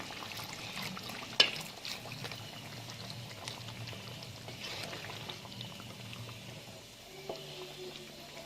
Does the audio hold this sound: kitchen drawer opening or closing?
no